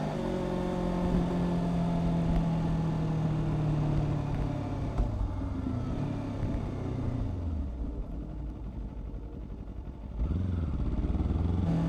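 A Kawasaki Ninja 500 motorcycle cruises in a group ride, its engine droning steadily up close with shifting pitch as it slows and picks back up, wind rushing underneath.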